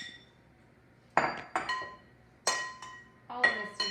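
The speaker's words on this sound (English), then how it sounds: "I'm just going to put this in a bigger bowl so it's a little bit easier to stir" Glass bowls and utensils clink as a cilantro filling for empanadas is moved into a bigger bowl, with four or five bright, ringing knocks spaced about a second apart, close by in a quiet kitchen.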